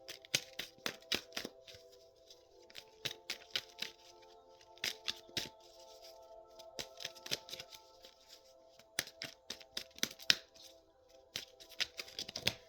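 Tarot cards are shuffled by hand in quick bursts of crisp riffling and slaps, close and quiet, with short pauses between rounds.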